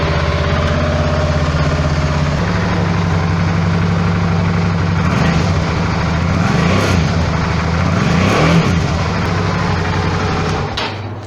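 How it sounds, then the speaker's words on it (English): A 2008 Suzuki V-Strom 650 motorcycle idles on its stock exhaust, a loud, close, steady burble whose pitch rises and falls with a few light revs before it settles. "let's have a listen to the stock exhaust system"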